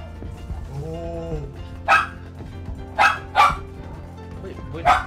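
Dogs bark in four sharp, loud bursts spread across the second half, each a quick yelp-like bark, following a stretch of voice and tonal sound in the first part.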